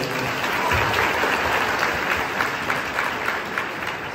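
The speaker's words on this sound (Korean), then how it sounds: "박수 쳐주세요" An audience claps steadily and fairly loudly through a school welcome ceremony for new students, a dense continuous round of applause filling the hall for about four seconds.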